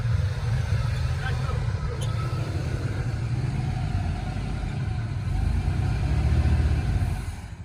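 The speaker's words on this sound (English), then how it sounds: "She's actually idling good now." An Oldsmobile Cutlass sits parked on soft, rutted ground, its engine holding a steady, deep, low idle from start to finish while people talk over it.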